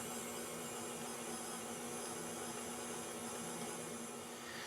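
Steady, loud motor whir of an electric mixer churning masa dough for chocolate tamales with milk and vanilla, a continuous even drone with no pauses and no talking.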